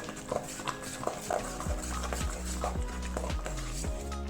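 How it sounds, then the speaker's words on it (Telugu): A spoon stirs tomato and red chilli chutney in a bowl, making soft, irregular taps and scrapes that repeat every half second or so, close and fairly quiet. "పచ్చడిని బాగా మిక్స్ చేసుకోవాలి."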